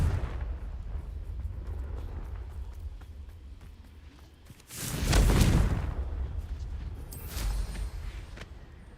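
A Confringo fire spell exploding in the Hogwarts Legacy video game: a deep, booming blast erupts midway and rolls into a rumbling tail, with a second swell near the end over a steady background rumble.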